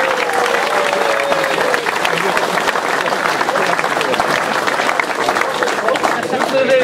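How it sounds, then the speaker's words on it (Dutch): A crowd at an outdoor event in Losser claps steadily and loudly, the applause continuous throughout with people talking over it. "applaus!"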